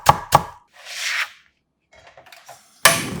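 A knife slices a halved green onion into thin rounds on a cutting board, with a few crisp, close chopping knocks at the start and a sharper cut at the end, separated by soft rubbing and near silence.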